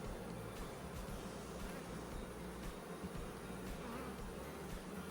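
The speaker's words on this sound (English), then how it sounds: "Bees are just boiling out of here. Stacks of bees." Honey bees boil out of an open hive in a dense, steady buzzing hum that fills every moment, close and continuous with no voices.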